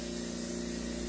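A steady, loud hiss of blown air pushes paint across a canvas, continuous and unbroken like a spray, with no pauses or talk.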